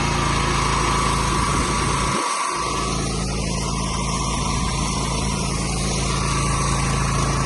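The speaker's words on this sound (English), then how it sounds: "cleaning somebody's driveway with a jet wash" A loud, droning petrol jet wash engine runs steadily and close by while cleaning a driveway, with a continuous high-pitched mechanical whine and a brief dip partway through.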